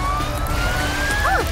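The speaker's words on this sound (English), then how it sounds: "Amber, the ambulance is here." A loud, continuous cartoon ambulance siren wails steadily, rising slightly in pitch, with a short warbling chirp near the end.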